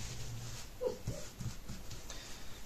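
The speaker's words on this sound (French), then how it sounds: "Désolé, c'est mon chien qui rêve." A sleeping dog dreaming lets out a few soft, faint whimpers and muffled yips over a quiet indoor background.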